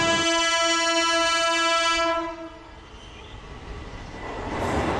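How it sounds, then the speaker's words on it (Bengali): An ICF EMU local train running from Howrah to Chandanpur sounds a long, loud multi-tone horn, then its rumble continues as it approaches and builds again toward the end. "এবার চলে আসছে হাওড়া থেকে চন্দনপুরগামী আইসিএফ ইএমইউ লোকাল ট্রেন।"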